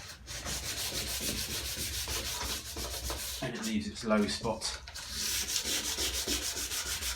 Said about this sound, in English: orbital sanding is a bit tricky to get down into these gutter areas